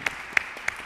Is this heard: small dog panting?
no